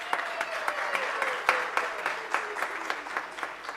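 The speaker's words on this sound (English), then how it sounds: "Let us give her a round of applause." A round of applause from an academic gathering, with moderate, fairly sparse claps from a modest crowd that hold steady for a few seconds.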